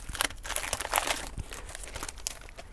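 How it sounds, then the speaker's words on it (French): Motorcycle rim sticker packaging gets unwrapped up close, with irregular bursts of crinkling and rustling plastic or paper, plus a few sharper crunches, with no one talking. "Alors on va se déballer ceci."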